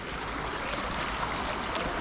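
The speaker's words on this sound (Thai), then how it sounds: "น้ำไหลแรง" A strong, fast-flowing stream of water rushes steadily and close by, a continuous broad roar with no voices over it.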